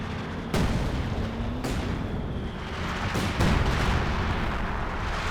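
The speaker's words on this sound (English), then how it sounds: "Sector artillery coming in for the Axis here" Sector artillery barrage in Company of Heroes 2, a World War II strategy game, with repeated heavy shell impacts rumbling through a dense, constant battle din; sharper blasts land near the start and again around the middle.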